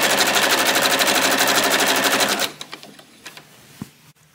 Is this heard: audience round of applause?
no